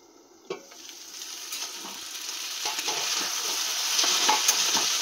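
Cauliflower and potato fry in a pan in a home kitchen, with a continuous sizzle and scraping stirring strokes that grow gradually louder, and no talking.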